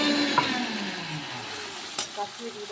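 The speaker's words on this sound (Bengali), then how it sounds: "আমি এটাকে ভালো করে তেলের সাথে নেড়ে চেড়ে নিয়েছি।" A spoon stirs pea kachori filling in hot oil, producing a steady sizzle with scraping strokes in the pan.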